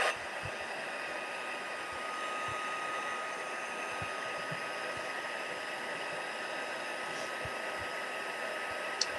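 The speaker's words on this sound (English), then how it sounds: "I will say that this heat gun is quiet" A quiet electric heat gun on its heat setting melts embossing powder, giving a steady, soft airy whir that runs unchanged and close by, with a few faint low taps underneath.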